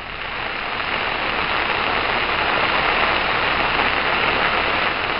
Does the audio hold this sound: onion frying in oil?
no